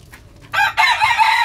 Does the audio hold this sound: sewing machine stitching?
no